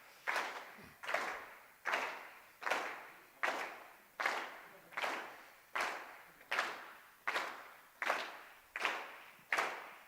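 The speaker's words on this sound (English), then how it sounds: "we're going to just start clapping" An audience claps together in a steady unison rhythm, about one clap per second, each clap sharp with a short decay, fairly faint, with no talking over it.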